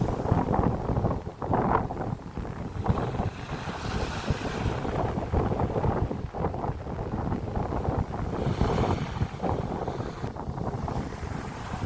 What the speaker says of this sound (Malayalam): കാറ്റ് കൂടുതലാണ്, അപ്പൊ വീയാൻ പറ്റൂല